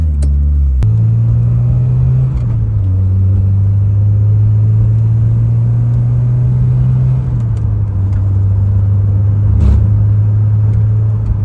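A car engine idles and cruises steadily with a smooth, even low rumble, holding a constant pitch with slight shifts in tone, close and continuous throughout with no talk.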